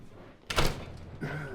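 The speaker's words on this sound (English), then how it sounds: "The door gets a little jammed. Oh, there, I got it." A jammed door at a house is forced open with one loud, close thump-and-scrape burst, followed by a voice speaking.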